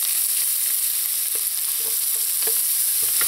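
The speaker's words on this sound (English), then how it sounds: "I'm just going to let these onions just saute in here for a little, just until they start to turn translucent" Finely chopped onions saute in oil in a pot over medium heat, giving a loud, even, close hiss with a few faint stirring knocks and no speech.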